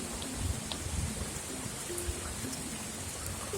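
Steady rain hisses at the base of Cherokee Falls in Cloudland Canyon, with rushing waterfall water from a riverbed blending into a continuous, even wash of noise, no talk.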